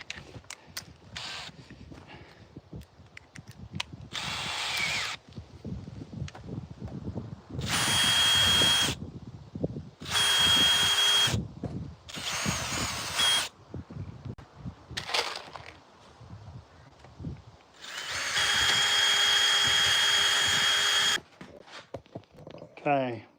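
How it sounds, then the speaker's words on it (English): Power drill boring holes in wood behind a piece on a chicken coop build, several loud whirring bursts of a few seconds each with pauses between, and someone talking in the gaps. "I just drill some holes in behind it just to give those screws somewhere to go"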